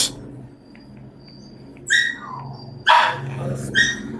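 A dog gives a few separate barks and yips at moderate distance, three short bursts spaced over a few seconds against a quiet background.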